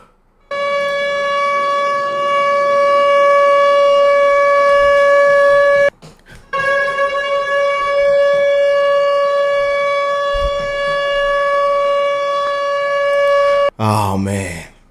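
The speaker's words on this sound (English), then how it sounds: "I got to hit my sirens" A loud siren sound effect holds a steady, wailing civil-defense style tone. It breaks off briefly near the middle, then resumes and plays alone before ending with a short warble.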